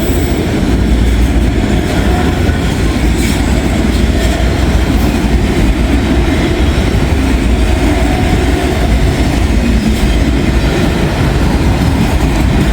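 A coal train rolls past on the rails, a loud, continuous rumble with rhythmic clickety-clack of wagon wheels over the joints, close by and unbroken, with no talking.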